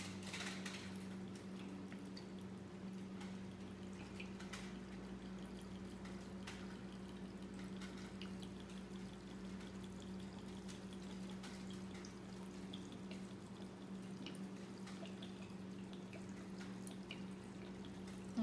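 Rum poured over fruits set to soak for a Jamaican Christmas rum cake, a faint steady trickle with small drips over a constant low hum, no talking.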